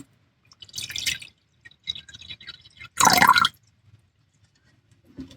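Water poured into a small bowl for watercolor painting, with a few soft drips and trickles and then one short, louder pouring splash near the middle, heard close and alone with quiet gaps in between.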